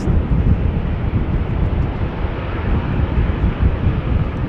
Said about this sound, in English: Probably was a Dreamliner or something like that.